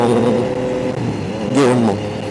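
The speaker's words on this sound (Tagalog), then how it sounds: "downshift ako ng 5th gear to 4th gear" A motorcycle engine holds a steady mid-pitched drone as the rider rolls off the throttle and shifts from fifth down to fourth gear without the clutch, with a brief rise in revs near the end.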